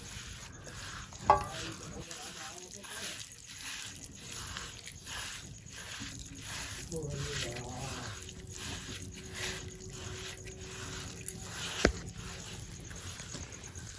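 Spice masala for stuffed brinjals, village-style Gujarati cooking, being mixed in a bowl. Quiet, rhythmic scraping and stirring strokes repeat steadily, with a couple of sharper knocks and a brief voice.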